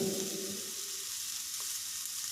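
Dry red chillies frying in a pan make a soft, steady sizzle with a faint hiss that stays quiet and even, with a low hum beneath it early on.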